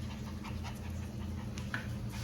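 A dog pants steadily and rhythmically throughout, close and fairly loud, with quick breaths running without pause over a low background hum.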